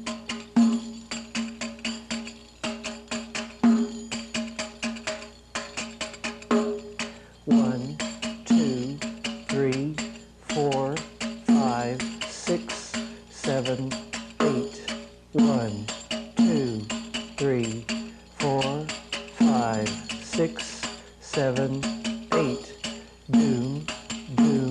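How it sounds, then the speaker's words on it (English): A frame drum plays the Masmoudi Middle Eastern dance rhythm, close and clear, with deep bass strokes and sharp finger taps in a steady repeating pattern, alone without talk. "basic Middle Eastern dance rhythm called Masmodi"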